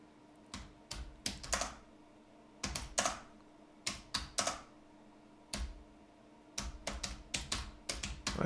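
Close, crisp keystrokes on a computer keyboard while working in a Linux terminal on CentOS 7, arriving in quick clustered bursts separated by short pauses.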